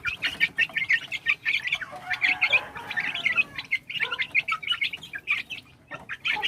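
White hatch cross hens and a rooster cluck and chirp in a busy, overlapping stream of short calls, close and steady throughout, with no talk.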